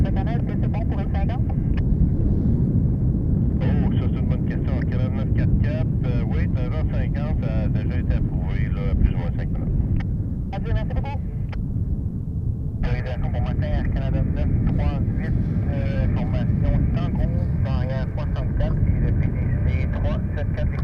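CRJ900 regional jet airliner departing Montréal-Trudeau airport, a steady distant jet roar with wind noise running throughout under near-constant radio talk.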